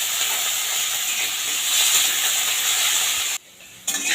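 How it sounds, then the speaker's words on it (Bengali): Diced potatoes fry in a pan over low heat, giving a steady broad sizzling hiss that holds close and even, then drops out briefly near the end before resuming. "বেশ কিছুক্ষণ সময় ধরে আমি আলুটাকে ভেজে নিলাম"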